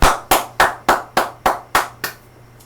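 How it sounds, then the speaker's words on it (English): One person claps hands nine times in a steady, even rhythm, each clap sharp and close, the last one softer, with a faint low hum underneath and no talk. "Let's give him a round of applause real quick"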